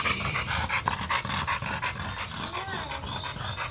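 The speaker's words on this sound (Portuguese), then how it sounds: "Cachorro bonito. Parece um tubarão branco, velho." A pit bull at a kennel pants rapidly and steadily up close, breathy and rhythmic, with faint whimpering noises mixed in.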